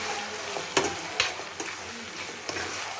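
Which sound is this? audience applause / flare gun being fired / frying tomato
frying tomato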